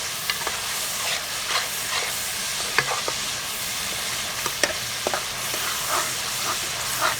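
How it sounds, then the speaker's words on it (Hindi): Onion and tomato masala for dhaba-style chana dal sizzling in a pan while a spoon stirs and scrapes it, with steady frying hiss and scattered clicks, close and alone. "ये देखिए सारा जो प्याज है बुनाई की अच्छे तरीके से टमाटर की हो चुकी है"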